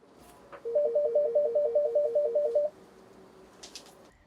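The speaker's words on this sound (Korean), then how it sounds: "연신 울리는 전화벨 소리에 직원들은 분주합니다." An office telephone rings in a fast warbling electronic trill for about two seconds, loud and close, then stops, leaving quiet room noise in a busy Korean office.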